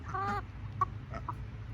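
On a farm, a hen gives a few short clucks and squawks: one longer call, then scattered brief notes, moderately close over a steady low outdoor hum.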